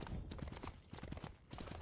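A horse's hooves clip-clop in the game Mobile Legends, a quick, uneven run of soft thuds at close range, fairly faint and with no voices over it.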